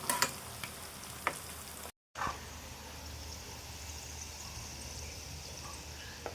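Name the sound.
frying food in a pan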